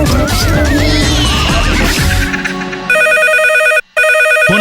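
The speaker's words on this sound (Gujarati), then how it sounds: "ફોન આવ્યો." A telephone rings after a spell of background music and effects, its electronic ring repeating loudly and alone, briefly cut off before resuming.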